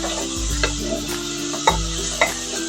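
Pumpkin leaf curry being stir-fried in a pan, with steady sizzling and a few distinct scrapes and clinks of a spatula against the pan at irregular intervals, close up and with no talking.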